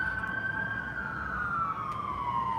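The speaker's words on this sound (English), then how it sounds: "The sirens are going off in Phoenix." An emergency siren wails steadily outdoors in Phoenix, a single sustained tone slowly falling in pitch over a couple of seconds, moderately loud and carrying over a constant low background rumble, with no talk.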